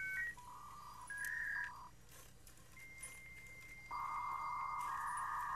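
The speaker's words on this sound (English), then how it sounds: "Phone." Phone dialing in a video game: a sequence of clean electronic tones, short beeps followed by longer sustained ones, quiet and isolated against a faint hum with no talk.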